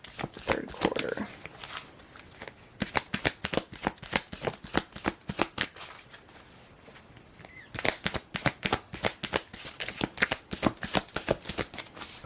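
Tarot cards being shuffled close up in a rapid, crisp riffling patter, with short pauses and bursts of flicking card edges, no talking.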